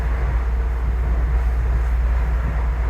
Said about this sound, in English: the train to Grand Central